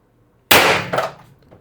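A single sharp airgun shot from an IntruBuster G2 fitted with a 12g CO2 adapter, a close, sudden burst with a short hissing decay, after a moment of silence.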